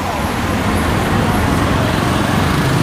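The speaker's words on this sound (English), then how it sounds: "But they are not so noisy like the tuk-tuks." Dense, loud road traffic rumbles steadily through a street in Mombasa, Kenya, with the engine drone of passing vehicles such as tuk-tuks close by and no break in the noise.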